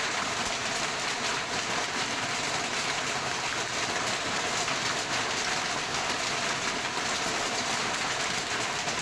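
Heavy rain pours down during a spell of severe winter cold, a dense, steady hiss of downpour that holds at the same level for the whole stretch, with no voices.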